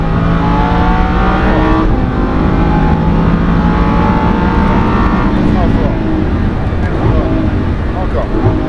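A Lamborghini Huracan accelerates hard on the Le Mans circuit, its engine a loud, steady roar climbing through the revs from inside the car, with an instructor's voice talking over it.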